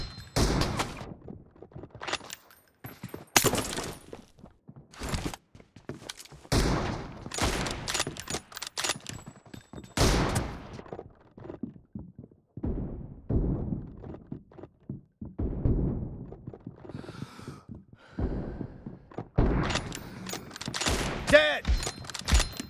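Rapid gunfire from a mobile shooter game, team deathmatch, in dense bursts and single cracks across the whole stretch, loud and near, with brief pauses between volleys.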